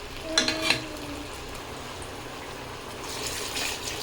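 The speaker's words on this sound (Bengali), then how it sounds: "এখন আমি তেলের মধ্যেই জল দিয়ে দেব।" Water poured into hot oil over potatoes and onion, bursting into a brief splashy sizzle near the start and then settling into a steady hiss of frying.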